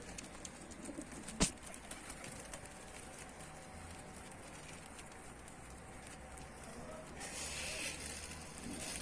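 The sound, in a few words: bird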